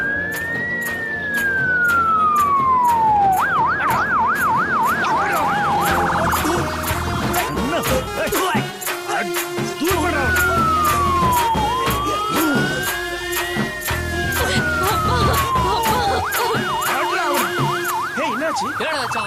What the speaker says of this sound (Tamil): ஆம்புலன்ஸ் வர நேரம் பார்த்து ரோட பிளாக் பண்ணி வச்சிருக்கானுங்க